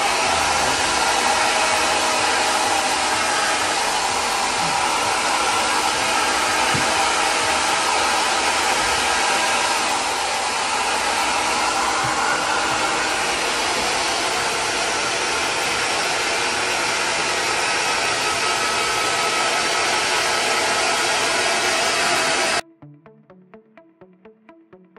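A hair dryer blows a steady, loud whoosh as it heats and strips film off a kitchen surface during a renovation, running continuously for over twenty seconds before cutting off abruptly into near silence.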